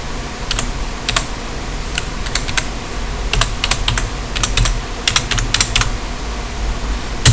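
Fingers typing on a computer keyboard during a Linux Ubuntu setup, rapid irregular clicks in quick clusters with short pauses, close and clear with no speech.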